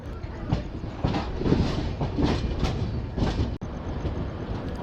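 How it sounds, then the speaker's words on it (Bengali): A passenger train, the 13190 Balurghat–Sealdah express, rolls into Sealdah station before dawn. Steady loud rumble and rhythmic clickety-clack from inside the carriage, with a brief sharp clunk near the end. "ট্রেন শিয়ালদা ঢুকছে"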